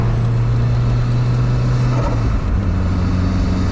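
A turbocharged Mazda Miata drives off-road, its engine a loud, steady close drone with a low hum that dips briefly partway through.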